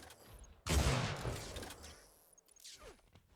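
Rocket launcher fire in an Unreal Tournament match: a sudden loud burst of blasts followed by a fading rumble and a quick whooshing sweep near the end.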